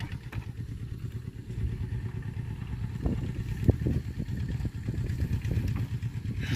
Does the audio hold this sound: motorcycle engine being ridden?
yes